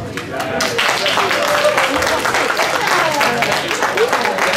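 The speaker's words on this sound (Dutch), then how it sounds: "Dus ik denk dat ze wel een applaus hebben verdiend." Applause from a park festival crowd for volunteers, a steady wash of clapping that holds for several seconds with a voice or two mixed in.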